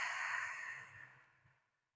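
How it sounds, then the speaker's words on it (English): A single deep clearing exhale closing a yoga practice, a soft breathy rush that starts strong and fades gradually to silence over about two seconds, close and alone. "let's end with a deep breath in and a clearing breath out"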